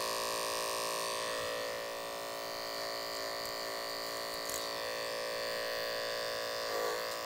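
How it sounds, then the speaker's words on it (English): An electric hair clipper cuts a man's short hair using the clipper-over-comb technique, giving a steady, close, even buzzing hum that continues without a break. "we're doing quite a bit of this haircut with the clipper over comb technique"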